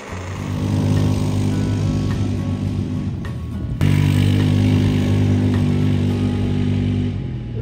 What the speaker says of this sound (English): Woody's been working on all of the things for the ATV, and it might run today